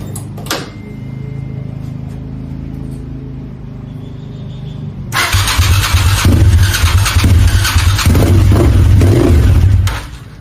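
Suzuki TL1000 motorcycle engine fires up with a sudden loud burst and keeps running at a rough, throbbing idle, after a quieter stretch of low mechanical noise; no talk over it.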